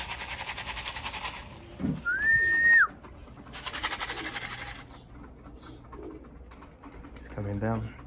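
Racing pigeons returning from a 200-mile young-bird race in Fresno, California, give low cooing calls amid bursts of airy rustling noise and a brief rising whistle, with faint background activity.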